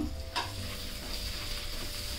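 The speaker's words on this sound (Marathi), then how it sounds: "आता याच्यामध्ये मी पात घालते. याच्यामध्ये ना थोडासा कांदा पण घेतलेला आहे." Onion and green onion tops sizzling in hot oil in a tempering for Khandeshi-style brinjal bharit, a steady close crackle with a brief stirring scrape near the start.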